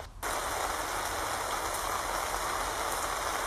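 Heavy rain pours down steadily at the Sooke River in a dense, unbroken hiss that begins abruptly and holds at the same level throughout.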